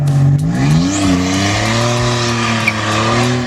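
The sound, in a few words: Nissan 300ZX sports car engine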